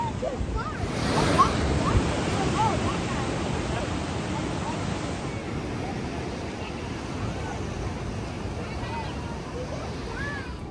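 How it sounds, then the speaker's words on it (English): Gentle ocean surf breaks and washes along the beach at San Clemente, California, at sundown. It is a steady, continuous roar of low-key waves with a slight swell near the start, heard close and loud. "the waves are like real low key today"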